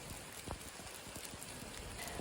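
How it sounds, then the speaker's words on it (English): Heavy rain pours down on a wet trail camp, a steady dense hiss of falling water with scattered louder drops, continuous throughout. "It's raining so hard, you even put a fire out."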